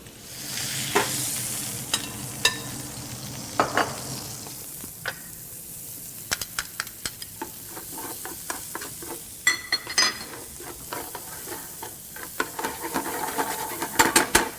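Paella base cooking slowly in a paella pan, a steady sizzle broken by frequent scraping and stirring clatters from a utensil against the pan, close and moderately loud.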